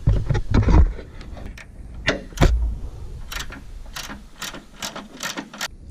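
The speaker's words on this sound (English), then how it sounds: "literally got all three of these loose with the ratchet" Ratchet wrench clicking in short bursts while loosening 14mm suspension bolts on a Honda Civic Si, with scattered clanks and rustling between the close ratcheting passes.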